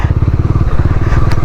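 Motorcycle ridden on a mountain road in Himachal Pradesh between Sissu, Rohtang Pass and Shimla, a loud, close, steady pulsing engine drone with a brief clatter near the end.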